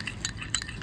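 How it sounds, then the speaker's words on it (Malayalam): A homemade glycerin skin cream mixture being stirred, with soft clinks of a spoon against a glass bowl and light scraping repeating quickly and close by, no voices. "അതിനുശേഷം നല്ല പോലെ അങ്ങോട്ടങ്ങ് മിക്സ് ആക്കാം."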